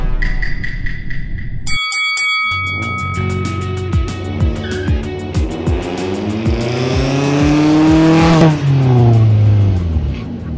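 A modified Mitsubishi Lancer EX 2.0 launches hard in a drag race, its engine revving loud and close through repeated rising gear pulls, with brief tire squeal and a sustained roar that peaks near the end.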